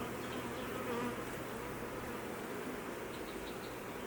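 Honey bees buzzing in a dense, continuous drone close by during a hive inspection on a hot day, steady and unbroken with no voices.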